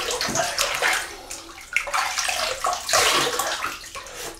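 Water from a running tap splashes and patters as hands scoop it onto the face before a shave, close and continuous with uneven bursts of splashing and no speech.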